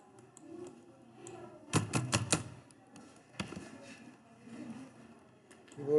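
A computer keyboard clatters in a quick burst of four or five sharp key presses, then a single stray tap, with muffled talking around it.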